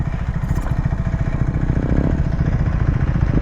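A KTM 790 motorcycle engine, new and freshly broken in, runs steadily at an offroad adventure park, its low throbbing rumble close and continuous with a slight clattery texture throughout.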